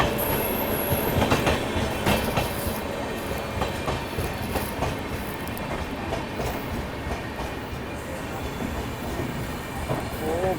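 A Shiv Ganga SF Express passenger train rolls steadily along the rails on the Banaras to New Delhi route, its continuous loud rumble and wheel clatter heard from on board, with brief squeals and a little background chatter.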